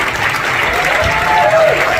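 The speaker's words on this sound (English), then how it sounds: "An applause." A press-conference crowd applauds director Denis Villeneuve and the cast of Dune: Part Two, a loud, continuous wash of clapping heard close, with a voice faintly audible underneath.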